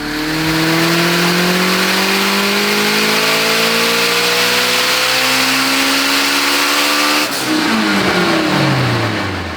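A Datsun 1200 ute with an SR20 stroker engine running VVL revs hard and loud, climbing steadily in pitch, then dropping off sharply before rising again near the end, with no talking.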